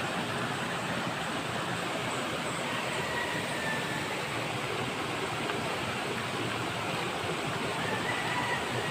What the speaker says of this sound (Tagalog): Talagang mapapansin nyo yung daloy ng tubig.